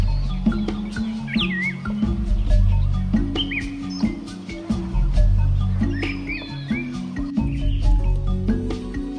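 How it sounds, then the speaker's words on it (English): A black-breasted thrush calls with loud, clear whistled phrases over a busy morning background of other birds and a low rumble in Murlen National Park, Mizoram, India. "Like this black-breasted thrush calling out loud in the morning."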